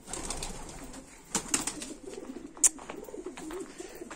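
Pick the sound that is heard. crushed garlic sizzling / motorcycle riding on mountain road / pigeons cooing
pigeons cooing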